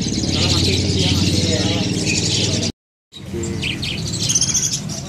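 Birds, including starlings, chirp and tweet continuously in a busy, dense chorus inside a bird shop, with a person talking over it throughout and a brief silent gap midway.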